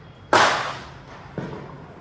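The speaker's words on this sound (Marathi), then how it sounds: "तो तुळशीचं लग्न बहुतेक, त्यामुळे फटाके वाजतायत." Two firecracker bangs set off for the Tulsi wedding festival, a sharp loud crack followed about a second later by a fainter, more distant pop, each trailing off into a brief echo.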